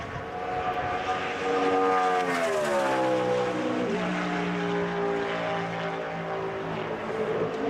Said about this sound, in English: Now Travis goes right up top, runs through the speedy dry in turn number 2 in the Yates Racing Ford